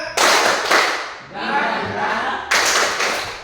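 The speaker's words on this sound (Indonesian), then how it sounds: "Tepuk semangat." A group performs a rhythmic clapping routine as a classroom ice-breaker, sharp bursts of claps in quick patterns with a brief pause between rounds, loud and close, with voices mixed in.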